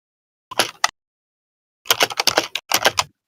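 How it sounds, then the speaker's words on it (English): Fast, furious typing on a computer keyboard comes in three quick bursts of rapid, close, crisp key clatter separated by a short silence. "That was some furious typing."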